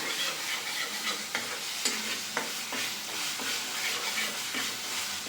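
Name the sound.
stirring and frying spices in a pan for paneer butter masala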